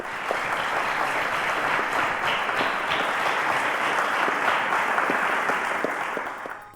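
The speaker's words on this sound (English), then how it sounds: "A round of applause, guys." A crowd applauds steadily for several seconds, a dense wash of clapping that fades out at the end.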